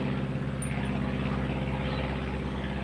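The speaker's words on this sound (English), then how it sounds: "That is a low-flying aircraft." A low-flying biplane passes overhead near a lakeside airport, a steady loud propeller-engine drone with a strong low hum that holds constant throughout, with no talking.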